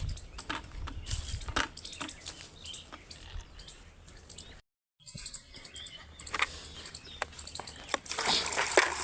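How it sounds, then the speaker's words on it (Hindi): Squirrel calls at an outdoor farm with buffaloes nearby, rapid chattering chirps in bursts, fairly loud and close, broken by a brief silent gap before they resume over light ambient noise. "जब मैं भैंसों को पानी पिलाऊंगी तब भी देखना गिलहरी की आवाज़ इतनी अच्छी आएगी"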